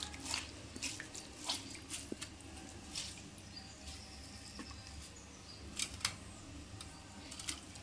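Water being squeezed by hand out of washed, grated tuber for kizhangu puttu, heard as faint, scattered wet drips and squelches in short bursts against a quiet background, with no talking.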